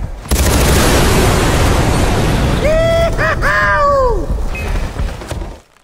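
A loud, roaring explosion blast from the video game Far Cry fills several seconds with dense rumbling noise, with a wavering wail-like cry sweeping through the middle before the din fades.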